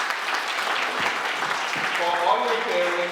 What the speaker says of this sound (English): can you have a round of applause for all your parents